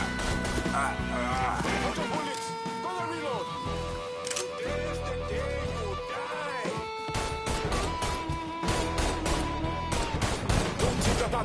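Gunfire in the video game Mafia 3, repeated sharp shots and bursts through a busy, loud scene with voices shouting over the action.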